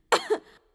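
A woman coughs once in a scene on an Indian horror film set, a short, sharp, close cough with a quick second catch, alone in silence.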